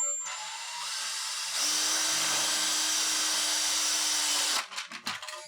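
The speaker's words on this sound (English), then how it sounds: "what I'm going to use next is one of these stepper drill bits" A stepper drill bit bores through the plastic case of a cat-shaped toy keyboard being circuit bent, a loud, steady high whine that rises in pitch as it bites, runs for about three seconds, then cuts off into a few scraping rattles.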